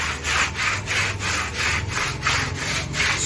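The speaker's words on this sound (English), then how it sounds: "Just scrub it the way I am doing it." A brush scrubbing a hatchery pond wall in rhythmic strokes, about nine steady back-and-forth rasps in three seconds, close and fairly loud with no talking.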